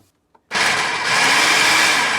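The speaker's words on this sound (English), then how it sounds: "Mushrooms into the food processor." After a moment of quiet, a food processor whirs on abruptly, chopping mushrooms with a loud steady motor drone and chopping texture that continues to the end.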